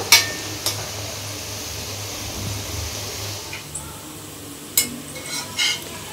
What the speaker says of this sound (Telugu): ఇప్పుడు వీటిని ఈ విధంగా కలుపుకుంటూ లైట్ గోల్డెన్ కలర్ వచ్చేదాకా వేయించుకోవాలండి